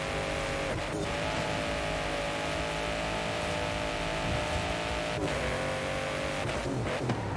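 A Rally Fighter car in the racing game Forza Horizon 5 drives with a steady engine drone, its pitch dropping at gear shifts around two points, fairly quiet and continuous with no talk.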